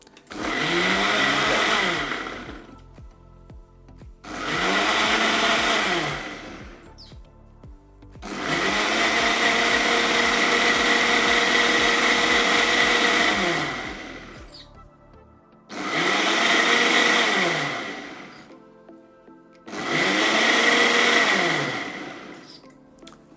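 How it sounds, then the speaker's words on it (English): A blender mixing a turmeric smoothie whirs loudly in five separate bursts, short pulses around one long continuous run, with brief quiet pauses between. "Turn our blender on."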